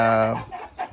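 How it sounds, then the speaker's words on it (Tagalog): Backyard chickens from a small incubator and hatching setup cluck loudly and close by, one drawn-out call followed by a couple of short clucks in under a second. "Maingay ang ating mga manok."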